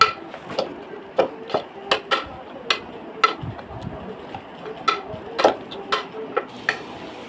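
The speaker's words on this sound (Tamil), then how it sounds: "நல்லா கடைஞ்சிக்கோங்க தண்டு முத்தாத தண்டாக போட்டுக்கோங்க நல்லா மறைஞ்சிடும்" Cooked spinach is mashed in a pot with a steady beat of sharp knocks and clicks from a masher striking the vessel, about two per second, close and distinct over soft wet squelching.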